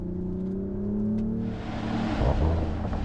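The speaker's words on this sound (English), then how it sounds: "You got pops and bangs and your full 544 brake horsepower out of this system." A 2024 Mercedes GLE 53 hybrid coupe SUV engine hums with a steady tone, then revs up hard in Sport Plus mode into a louder, rougher exhaust roar with sharp crackles and pops near the end.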